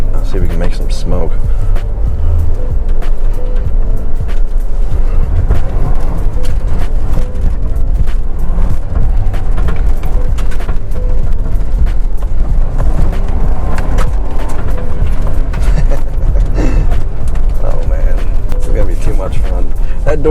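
A car engine revs hard in first gear for a burnout, a loud, continuous, rough roar with a deep rumble that fills the whole stretch, while a person talks over it.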